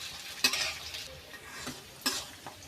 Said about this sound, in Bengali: ক্যাপসিকামটা গলতে একটু টাইম লাগবে, তাই আমরা বারবার করে নাড়াচাড়া করবো এটাকে